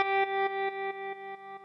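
A sustained guitar chord through an amp pulses with a ramp-wave tremolo and no reverb, each beat jumping up sharply then fading before cutting off, repeating about every quarter second, loud and alone.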